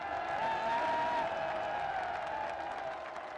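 Crowd at a Pakistan Tehreek-e-Insaf political rally in Gujranwala applauding with a sustained wash of clapping and cheering that fades slightly toward the end.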